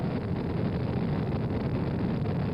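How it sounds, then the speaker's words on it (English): Apollo 10's Saturn V rocket lifting off, a dense, continuous broadband roar that stays loud and steady throughout with no voices heard. "Liftoff. We have liftoff 49 minutes past the hour."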